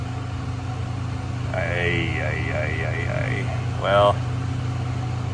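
A 1994 Jeep XJ with the 4.0 engine idles steadily with an exhaust leak, a low constant drone running underneath while a person talks briefly nearby.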